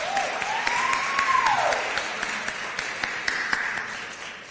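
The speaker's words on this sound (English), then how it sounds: "Let's give her another round of applause." Audience applause at a women's awards ceremony, a steady patter of clapping from a crowd at moderate distance, with a rising and falling whistle or tone over it, fading toward the end.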